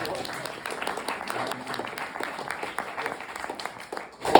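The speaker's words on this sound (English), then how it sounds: "Round of applause." Audience applause at an evening talk on Ukraine and the future of Europe, a steady round of clapping at moderate volume with some crowd murmur mixed in, swelling slightly at the end.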